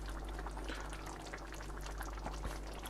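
Greek beef stifado stew bubbles in a pot, a continuous soft simmer of small pops and gurgles over a low hum, with no voices.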